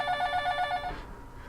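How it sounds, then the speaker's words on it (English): A telephone ringing in a room, one short trilling electronic ring that stops abruptly just before the one-second mark, fairly close and clear. "What was that? That's the phone."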